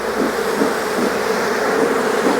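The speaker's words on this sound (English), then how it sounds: "Trying to get the bees off of the edge so I can put the super back on without smashing any bees" Honeybees swarm around an open backyard hive while a super is being put back on, a loud, continuous droning hum from many bees close by, with no talking.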